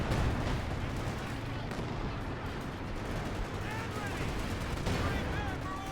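An SU-85 tank gun and artillery pound away in a Company of Heroes 2 battle, dense overlapping gunfire and booming blasts forming a busy low rumble with scattered sharper cracks throughout.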